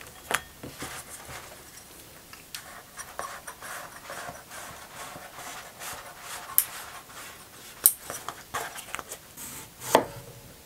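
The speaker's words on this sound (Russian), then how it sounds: "Лаваш нарежу на квадраты 25 на 25 примерно." A knife cutting lavash flatbread into squares on a board, scattered light taps and scrapes with a few sharper clacks, irregular and close, with no voices.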